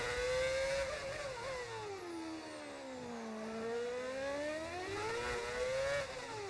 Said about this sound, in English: Doesn't it feel great to hear a V8 engine in Monaco again, though, chat?